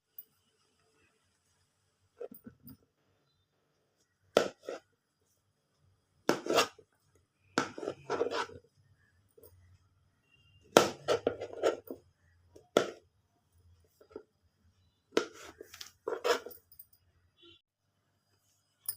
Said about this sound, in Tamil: இப்போ மஷ்ரூமும் வெட்டியாச்சு, வெங்காயம் தக்காளி எல்லாமே வெட்டியாச்சு.